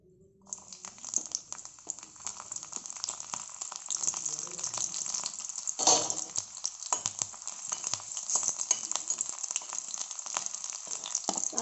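Garlic cloves for a tomato chutney frying in a hot pan, a steady bright sizzle and crackle starting after a brief quiet moment and continuing loud and close throughout, with occasional stirring scrapes and no talking.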